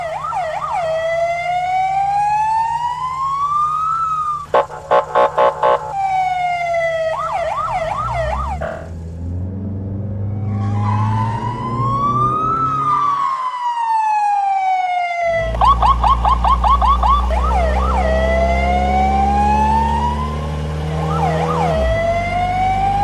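Cartoon police car siren wailing loudly, rising and falling tones that pause and restart, with short rapid chirping bursts and low engine rumble underneath, no talk.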